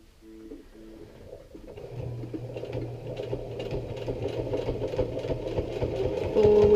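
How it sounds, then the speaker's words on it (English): A sewing machine top stitches the fly zipper on a pair of jeans with a steady mechanical whir that starts soft and builds in speed and loudness, close by, without talk. "I'm going to re-top stitch this, top stitch there, and then have my own top stitch there."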